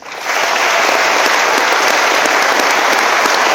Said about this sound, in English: core values champions, a round of applause